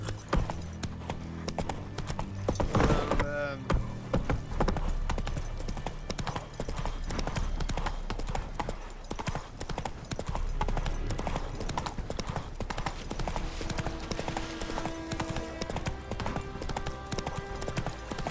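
Roach the horse trotting in The Witcher 3, steady clip-clop hoofbeats on a road, close and continuous under game music, with a brief whinny early on.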